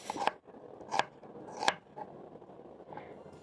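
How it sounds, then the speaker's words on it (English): A knife slices a white onion into moons on a board: three crisp crunching cuts spaced about 0.7 seconds apart, close and clear, followed by quieter scraping and handling sounds. "So using a knife, I'm going to cut my onion in half."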